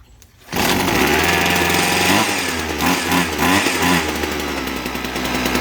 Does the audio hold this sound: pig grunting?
no